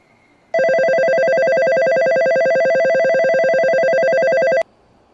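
A JR Tokyo Station train departure melody plays loud and close, a bright chiming electronic tune repeating steadily for about four seconds before cutting off abruptly.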